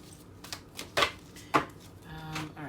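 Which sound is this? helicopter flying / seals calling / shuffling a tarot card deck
shuffling a tarot card deck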